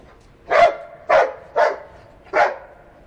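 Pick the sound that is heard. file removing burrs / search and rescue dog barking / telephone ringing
search and rescue dog barking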